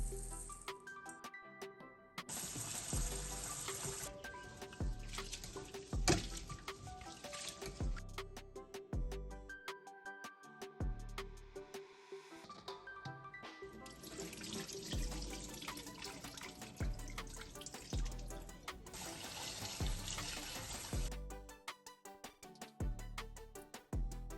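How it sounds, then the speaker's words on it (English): Rice is washed under a running kitchen tap in bursts of splashing water with pauses between, plus light rattling of grains and a container, close and fairly quiet, with no talking. "So once I finish measuring the rice, I'm going to wash it."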